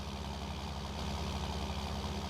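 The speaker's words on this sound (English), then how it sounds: "Look at that tractor go." Tractor engine in the video game Farming Simulator 19, a low steady rumble running continuously at a moderate, unchanging level, heard alone without any voices.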